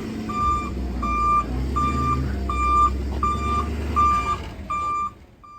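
A truck reversing to dump wood chips, its backup alarm beeping eight times in an even rhythm over a loud diesel engine rumble that drops away at the end.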